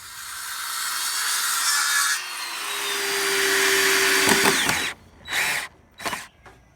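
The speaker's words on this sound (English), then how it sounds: "cutting the legs out of the treated 4x4, doing it 30 inches" A power saw cuts table legs from treated 4x4 lumber with a loud, close whine that runs steadily for several seconds. It then winds down and gives way to a few short bursts.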